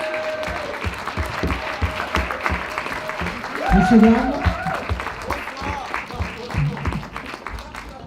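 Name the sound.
audience applauding the Dirlida improv team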